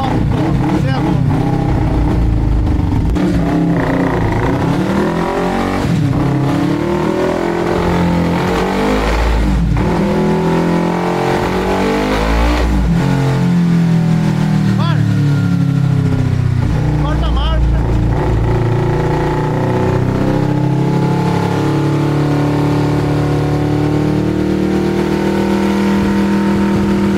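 A two-cylinder Honda CB 300 motorcycle revs hard on a dynamometer in a fourth-gear pull, its loud engine rising and falling repeatedly over nearly half a minute.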